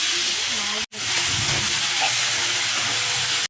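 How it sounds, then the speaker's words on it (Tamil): Vegetables for eggplant chutney sizzle in a hot pan with a constant, close hiss and faint crackle, uninterrupted by talk. "இப்போ அதையும் அதுக்குள்ள சேர்த்து நல்லா வதக்கிக்கலாம்"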